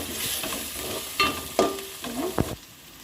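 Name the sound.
curry leaves frying in oil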